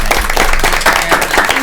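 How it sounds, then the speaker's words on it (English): Brief round of applause from attendees at a school committee meeting, a short dense burst of clapping. "Round of applause."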